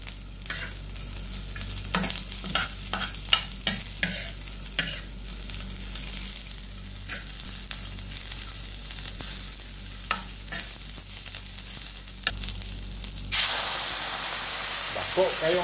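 Aromatics sautéing in a little oil in a pan before sardines go in, a close, steady sizzle broken by scraping stirs, rising to a loud hiss near the end.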